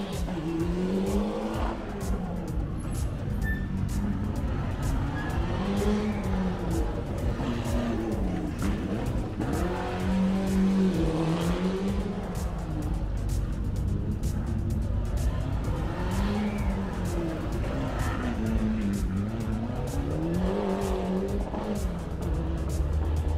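Swedish crew Mats Mirsel and Esko Juntila's historic rally car on a stage of the 2022 Rallye du Chablais at Champéry, its engine rising and falling through repeated gear changes, loud and close throughout.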